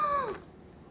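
A cat meows once in a video game, a short, bright call that slides downward and fades within half a second, clear and alone.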